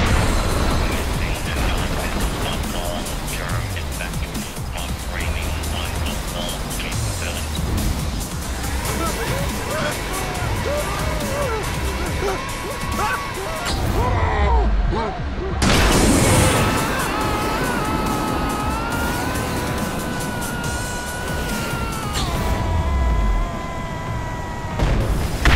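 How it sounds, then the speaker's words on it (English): Rumbling explosions and crashing structural collapses in the theme-park video game ScreamRide, a dense, continuous roar of booms and debris with a sharp burst mid-way, under a synthetic announcer voice. "Multiple explosions detected."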